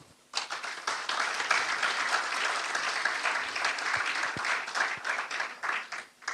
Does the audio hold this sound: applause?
yes